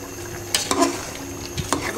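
Chana dal poured into a pot of beef curry lands as a few soft clattering hits over a steady low sizzle, close by with no talking.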